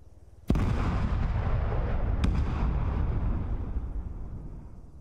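Arma 3 battlefield mortar rounds: a sharp, loud blast at the start swells into a sustained rumbling roar, with a second crack about two seconds later, the low boom slowly fading over several seconds.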